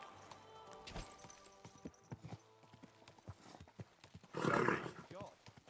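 Horse hooves clip-clop in a steady rhythm in Kingdom Come: Deliverance 2, ending in a loud, close whinny near the end, with someone talking over the sound.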